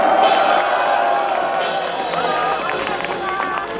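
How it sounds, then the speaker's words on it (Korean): Crowd at an outdoor Save Korea prayer rally at a Sejong city intersection, a dense wash of clapping and cheering with voices and babble mixed in, steady and fairly loud throughout. "박수로 응원해 주시기 바랍니다."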